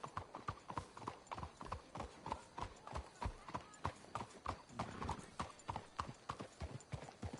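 Horse hooves clip-clop in steady, even rhythm in the Red Dead Redemption 2 video game, close and clear across the whole stretch with no voices.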